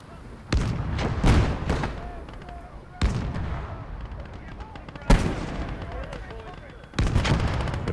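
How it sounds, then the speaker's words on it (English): Anti-tank cannon shots and other artillery booms in the World War II strategy game Gates of Hell, several heavy blasts with rumbling tails spaced a few seconds apart under a voice. "we have our AT cannon providing accurate heavy fire, just like that"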